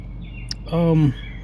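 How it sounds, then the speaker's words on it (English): A wren gives a single short, close chirp, a brief harsh call around a propane tank outdoors, with a faint click just before it and a low steady hum underneath. "this wren keeps going into our propane tank"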